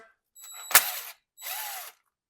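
A 10 mm ratchet turns a bolt on a 1976 BMW 2002, two short bursts of rapid clicking separated by a brief pause, close and clear with no voices.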